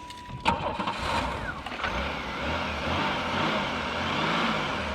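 An Oldsmobile Cutlass Supreme engine cranks and fires, then runs with a rough, rising rev before settling into a continuous close, loud drone; no voices over it.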